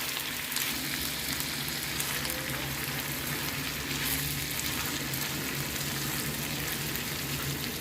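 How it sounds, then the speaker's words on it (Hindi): Chicken for white karahi sizzles and roasts in a pan while a spoon stirs it, a continuous crackling fry with soft scraping, close and low in level, no talking. "हम इसको ऐसे चम्मच की मदद से हिलाते जाएंगे।"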